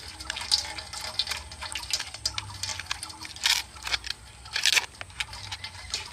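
Water from finely grated raw potato draining through a fine strainer, a soft trickling and dripping close by with a few louder splashes, no talk.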